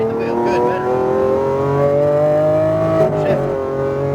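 A Lamborghini Aventador's engine pulls under throttle on a racing course, its loud, smooth tone climbing steadily for a few seconds before easing off.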